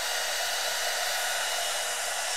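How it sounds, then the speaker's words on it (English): The fan of a DATRON Neo machine turned up to full force, a loud, steady broadband rushing blow like a hair dryer, continuous and unvarying with no talk. "If I turn up the fan now"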